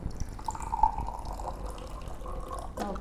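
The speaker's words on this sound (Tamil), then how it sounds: "இதுல தண்ணி ஊத்துறோம்." Water pours from a bottle into a glass with a soft splashing trickle and a brief liquid gurgle near the end, close and fairly quiet.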